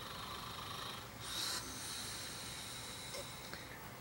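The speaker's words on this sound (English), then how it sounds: "This is you snoring." A person snores with a long raspy, hissing intake breath, faint and close in a quiet room, with a rougher snort-like swell in the middle of the breath.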